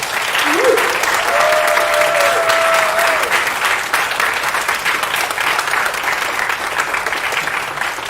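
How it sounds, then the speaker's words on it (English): A theatre audience at a live composers' folklore concert applauds loudly and steadily for the production crew, a dense, sustained roar of clapping, with a brief sung or whistled tone rising over it early on. "Can you please give all of them a massive round of applause?"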